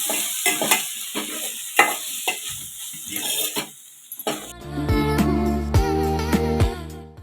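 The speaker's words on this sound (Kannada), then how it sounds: "ಇಷ್ಟನ್ನು ಹಾಕ್ಕೊಂಡು ಇವಾಗ ಮಿಕ್ಸ್ ಮಾಡ್ಕೋಬೇಕು" Cumin, coriander powder and gram flour are stirred and fried in a pan for palak paneer. Close sizzling is punctuated by repeated spoon scrapes, and tonal music rises in the second half.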